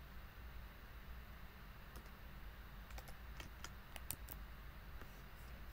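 Faint, scattered clicks from a computer keyboard sit under a steady background hiss, with a short cluster of keystrokes in the middle.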